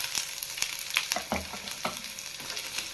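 Chopped onion and green chilies frying in a pan for a pumpkin palya, giving a steady close sizzle with scattered stirring clinks and scrapes throughout, no talking.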